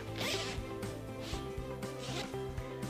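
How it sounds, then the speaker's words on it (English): The zipper on a fabric display graphic for a EuroFit Infinity display is unzipped in a run of quick, rasping pulls, close and clear with no talking. "So I'm just going to unzip the graphic"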